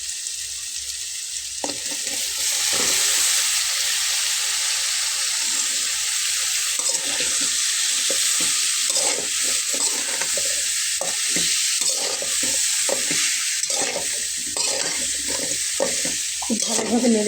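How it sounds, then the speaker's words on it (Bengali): Yardlong beans and potatoes frying in a pan as they are stirred, a constant sizzle broken by repeated scraping and clattering strokes of the spatula, close and busy throughout with no voices. "খুব ভালোভাবে নেড়ে চেড়ে মিশিয়ে নেব।"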